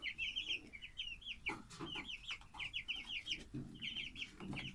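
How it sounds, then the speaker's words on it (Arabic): Ten-day-old chickens cluck and chirp continuously in a poultry house, many birds close by in an overlapping chatter, with a few louder bursts. "والفراخ ما شاء الله زي ما انتم شايفين اهوت، العمر 10 ايام"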